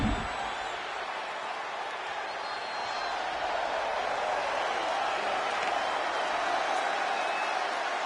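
A wrestling arena crowd in the WWE 2K25 video game, a broad steady roar of cheering and applause that holds at moderate loudness throughout with no clear voices on top.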